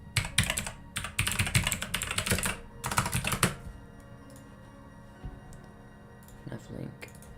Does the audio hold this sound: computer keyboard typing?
yes